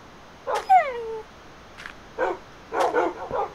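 A dog in the video game Minecraft gives a falling whimper followed by a few short, soft barks, sparse and fairly quiet with no talk.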